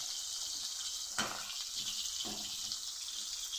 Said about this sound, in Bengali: তার মধ্যেই দিয়ে দেব আলু।